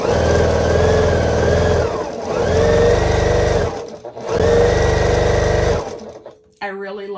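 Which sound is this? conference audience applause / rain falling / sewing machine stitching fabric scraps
sewing machine stitching fabric scraps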